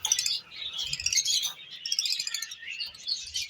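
Lovebirds in an aviary, including pale fallow, albino and green opaline mutations, chirp in rapid, overlapping high-pitched bursts. The calls are close and fairly loud and run continuously without pause.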